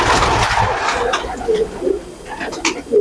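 A three-year-old black Dubbaj fighting pigeon of an old line at a Pune pigeon market gives a few soft low coos over a busy, loud background of voices and market noise.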